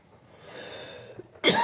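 A single sharp cough bursts out at the end after a moment of quiet breathing and faint background hiss.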